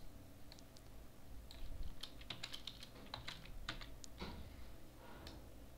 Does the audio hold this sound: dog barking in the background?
no